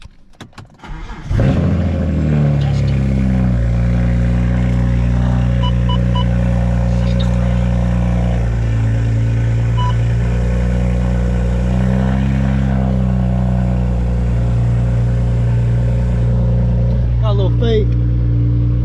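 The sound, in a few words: BMW E92 car engine starting and running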